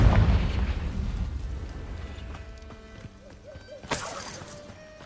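The Confringo fire curse bursts in Hogwarts Legacy with a loud, boomy explosive impact that fades into crackling debris, followed by softer magical chimes and a sharp bright hit.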